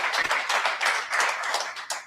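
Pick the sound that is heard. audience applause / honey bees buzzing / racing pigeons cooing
audience applause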